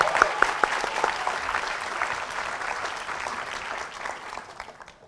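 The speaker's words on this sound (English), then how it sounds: "Martin, clap it up for Martin." A school senior awards ceremony audience gives Martin a birthday round of applause: dense, steady clapping from many hands that starts strong with a few sharp claps and gradually thins and fades over about five seconds, with no voices on top.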